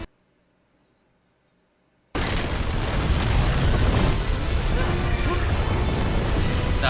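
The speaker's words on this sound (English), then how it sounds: "that was a gigantic explosion" A huge explosion from a Star Wars Ahsoka episode bursts in after two seconds of near silence, then a loud sustained rumbling roar fills the rest.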